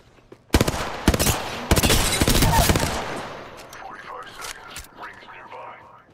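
Gunfire in the battle royale shooter Apex Legends: several sharp, loud bursts of rapid shots that fade into quieter distant rattles, with a voice faintly mixed in.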